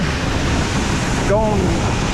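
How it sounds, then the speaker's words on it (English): Strong outdoor wind roars steadily as a broad rushing wash across the whole clip on a farm day with corn, with a brief faint voice-like tone partway through. "Very windy day today."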